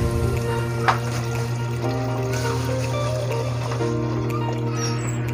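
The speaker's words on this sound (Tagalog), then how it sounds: "lagyan natin ng tubig" Water poured into a cooking pot while preparing a home-cooked Filipino lunch, a steady trickling pour under a constant low hum, fairly close and continuous.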